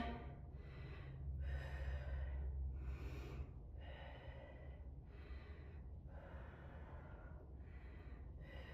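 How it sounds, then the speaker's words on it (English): Deep, slow breathing during a controlled squat exercise, with about seven or eight long rhythmic inhales and exhales, each a breathy rush, close and steady, with no talking. "Nice deep breaths, trying to slow down."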